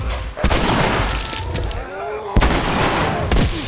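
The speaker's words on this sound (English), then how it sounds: "Now I have to shotgun you" Shotgun blasts in The Last of Us, two sharp, loud booms about two seconds apart, each cutting through a busy bed of game sound and scattered noise.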